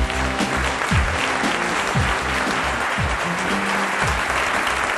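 A German television studio audience applauds to welcome a guest, the head of the Evangelical Church in Germany, with dense, loud, continuous clapping that fills the room from start to finish.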